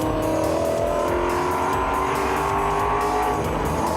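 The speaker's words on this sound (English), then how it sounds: "bante started from the back of the grid, and he's busy picking his way up through the field in his wonderful orange and white Mustang" Race cars roar around a circuit, an orange and white Mustang among them, with loud continuous engine drone, shifting revs and tire noise filling the whole stretch with no talk.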